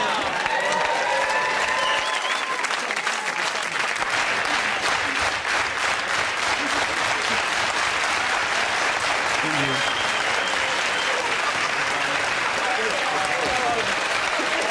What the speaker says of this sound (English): you started that fast clap way too soon